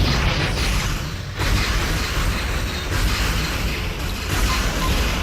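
Turret fire and explosions in the space combat game FreeSpace 2 make a dense, continuous wash of booming blasts and bursts with no clear gaps, loud and steady throughout.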